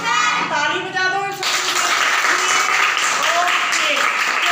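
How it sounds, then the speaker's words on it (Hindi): A class of children claps together in a dense, steady burst of applause, with a voice speaking just before the clapping and children's voices mixed in. "ताली बजा दो।"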